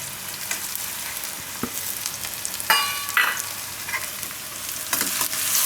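Ginger and green chillies fry in hot oil in a pan with a constant close sizzle, punctuated by occasional stirring scrapes and a brief bright crackle near the middle, no talking.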